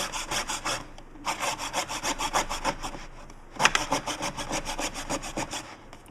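A small saw blade worked by hand through material on an LED bulb repair bench, steady back-and-forth strokes in two bursts with a short pause between, close and clear with no talking.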